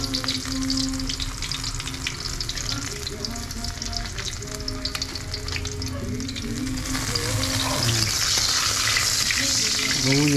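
Sliced ginger hits hot cooking oil and sizzles with a bright, continuous crackle, swelling louder as the heat rises while cooking pakbet, with occasional stirring.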